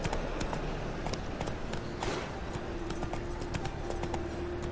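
Horse hooves clip-clopping in The Witcher 3, a continuous fast beat of hoofsteps filling the scene at close range over a dense game backdrop, with faint voices.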